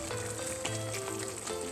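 Jamaican beef patty filling simmers in a pan, giving a steady soft sizzle and bubbling that runs throughout with a faint background hum.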